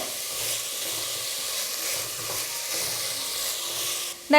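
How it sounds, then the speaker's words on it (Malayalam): Vegetables for a white vegetable kurma sizzle and crackle steadily in a hot pan over high flame while being stirred, with a sharper clatter right at the end and no speech. "1 മിനിറ്റ് ഒന്ന് ഹൈ ഫ്ലെയിമിൽ വെച്ചിട്ട് തന്നെ നമുക്ക് നല്ലതുപോലെ ഒന്ന് വഴറ്റി കൊടുക്കാവുന്നേ ഉള്ളൂ."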